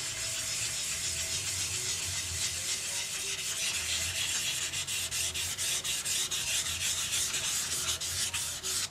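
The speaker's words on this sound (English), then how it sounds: "I'm using 600 grit while it's still really wet." Spanish cedar bowl wet-sanded with 600 grit sandpaper on a woodturning lathe, giving a continuous close, even rubbing scrape with a quick rhythmic pulse as the spinning wood passes under the paper, and a low motor hum beneath.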